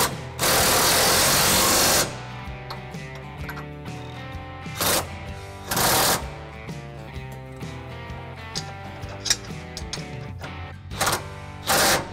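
Ratchet clicking as a 21 mm socket on a 5-inch extension tightens trailer hitch bolts on a 2019 Chevy Silverado 1500, steady close ratcheting with a few louder bursts of mechanical noise and no speech.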